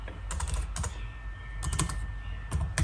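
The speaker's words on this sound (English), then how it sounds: "You will type the header files" Close, quick clacking of keys on a computer keyboard as C++ code is typed in Turbo C++, irregular bursts of taps over a low steady hum.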